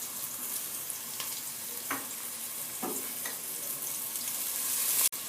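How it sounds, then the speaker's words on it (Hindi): Chopped onions frying in a little cooking oil in a pan, a steady close sizzle with a few stirring scrapes and a sharp clack near the end. "प्याज में गोल्डन कलर आने तक फ्राई करेंगे इसे"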